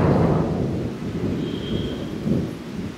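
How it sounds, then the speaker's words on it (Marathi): A loud, close roll of thunder rumbles through steady heavy rain in a sudden downpour near Panvel, Maharashtra, with no voices over the storm. "डायरेक्ट पडायला लागला पाऊस खूप जोरात."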